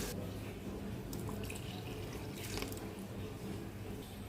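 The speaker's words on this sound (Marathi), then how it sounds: "आता ह्यामध्ये आपल्याला किती पातळ करायचे त्यानुसार मी पाणी घालून घेते" Steady splashing of water being poured into a pot of okra curry, continuous and close, with a slightly brighter gush partway through; no one speaks.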